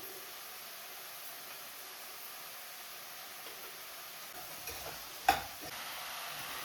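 Ridge gourd curry is stirred in a pan with a soft, steady sizzle and hiss, quiet throughout, with one brief scrape near the end.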